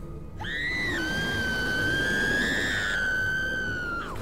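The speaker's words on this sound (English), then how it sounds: "Scream." Sustained high-pitched scream in the video game What Remains of Edith Finch, one long, piercing, wavering cry lasting about four seconds, loud and alone, with a sharp rise and a falling end.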